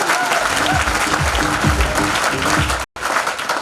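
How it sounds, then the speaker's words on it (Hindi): Audience applause at a vision training workshop in Chhindwara, a dense, steady burst of many hands clapping with a voice talking over it, cut off by a brief dropout near the end. "कितनी जोरदार ताली है यार, जोरदार ताली।"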